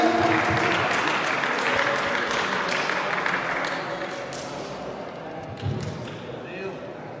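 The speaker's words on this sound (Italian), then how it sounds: "Facciamo un applauso ai due pugili già sul quadrato," A boxing crowd applauds two boxers already in the ring at a three-day boxing meet near Chioggia; dense, steady clapping fills the hall, easing slightly toward the end, with voices murmuring underneath.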